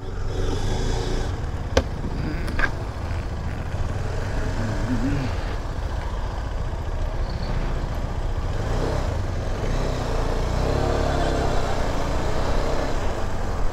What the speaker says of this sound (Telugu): ఏమోలేండి, కానీ ట్రాఫిక్ అయితే చాలా ఎక్కువ ఉంది